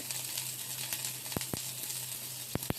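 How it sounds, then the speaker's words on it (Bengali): Onion frying in a small amount of oil, alongside raw pumpkin, gives a steady, faint background sizzle, broken by a few sharp clicks of a spoon or pan. "পেঁয়াজটা ভাজা হতে যেটুকু সময় লাগবে"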